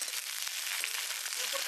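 Loud, dense sizzling of thick-cut okra frying in a hot pan with a fried spice tempering, a continuous crackling hiss with no talking.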